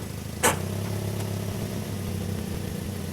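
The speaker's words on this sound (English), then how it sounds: "carefully drive the car on the ramps" A 2010 Toyota Yaris engine runs at a steady low idle as the car creeps onto ramps, with a brief sharp click near the start and no talking.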